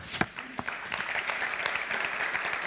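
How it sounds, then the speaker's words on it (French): A conference audience at a meeting on affordable housing applauds: a few scattered claps that quickly swell into moderate, steady applause heard from some distance. "je crois qu'on peut les applaudir"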